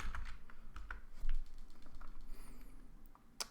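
Keys clatter on a computer keyboard in a quick, uneven burst of close clicks, with one sharper tap near the end and no talking.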